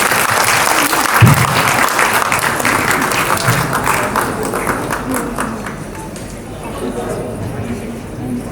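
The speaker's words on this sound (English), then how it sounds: "Ladies and gentlemen, a round of applause, please." Audience applause at an anniversary ceremony for Himalaya Airlines, steady dense clapping from a large hall crowd that holds for several seconds, then thins slightly toward the end.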